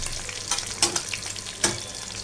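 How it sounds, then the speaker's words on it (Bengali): Fish bones frying in oil for Bengali macher kata chachchari sizzle softly and steadily, with a few sharper crackles and spatters popping out from the low hiss. "প্রায় ভাজা হয়ে গেছে।"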